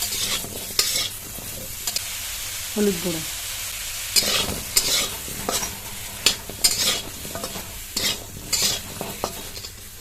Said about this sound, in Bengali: আমটা একটু হালকা ভাজা ভাজা হয়ে যাবে